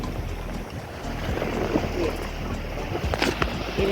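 Tour boat number 7 rides the sea near Phi Phi Island off Phuket, Thailand, a constant engine and water rush buffeted by heavy wind noise on the microphone, with faint voices in the background.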